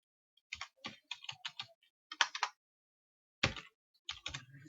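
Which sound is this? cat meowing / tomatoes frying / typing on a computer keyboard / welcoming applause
typing on a computer keyboard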